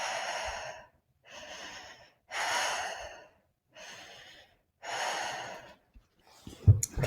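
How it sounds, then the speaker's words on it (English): A person does fast, deep diaphragmatic breathing with no pauses in a breathwork demonstration, with five or six loud, airy breaths following in steady succession and a short rustle at the end, close to the listener. "You'll be breathing a little faster than usual and continuously with no gaps."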